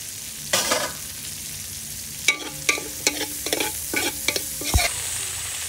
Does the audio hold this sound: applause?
no